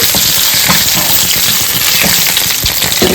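Onion sizzling loudly in hot oil with curry leaves and cumin in a tempering for fenugreek-leaf dal, a dense continuous crackle and hiss up close with scattered stirring scrapes.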